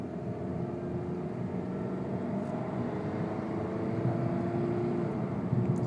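A 1999 Honda Accord with automatic transmission pulls away on a cold engine, a steady engine hum building slightly over several seconds, heard from inside without talking.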